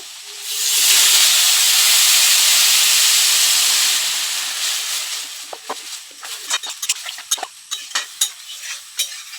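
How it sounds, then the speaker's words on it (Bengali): Water poured into a hot pan of jujube pickle bursts into a loud, steady sizzling hiss for several seconds, then fades into quieter bubbling with scattered clinks and scrapes of stirring, no voices. "একটু জল দিয়ে দিলাম ততক্ষণে জলটা ফুটতে থাকো"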